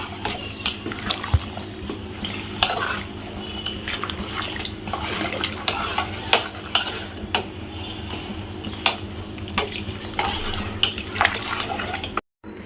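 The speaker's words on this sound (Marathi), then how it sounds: "त्यात आपण तांदळाचं पीठ टाकून घेऊया आणि चांगलं मिक्स करून घेऊया" A spoon stirs rice flour into water in a pot, scraping and knocking against the sides in a steady, repeated rhythm over a low kitchen hum, with a few sharper metallic clinks and no talking.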